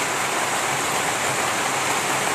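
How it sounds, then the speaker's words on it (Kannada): Rainwater falls in a continuous, even wash of splashing water, close and fairly loud with no break and no talk over it. "ಅಜ್ಜಿ ಮಳೆ ನೀರ್ ಬೀಳ್ತೈತೆ"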